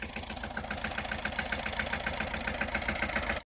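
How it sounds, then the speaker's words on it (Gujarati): A tractor engine idles steadily with a low, rhythmic diesel chug in a mango orchard before spraying, close and continuous, then cuts off abruptly at the end. "આપણે ટ્રેક્ટર બોલાવ્યો તો ટ્રેક્ટર વરો આવી ગયો"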